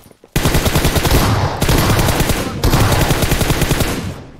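Loud, close automatic gunfire from the mobile battle-royale game PUBG Mobile comes as three sustained bursts of rapid shots with short breaks between them.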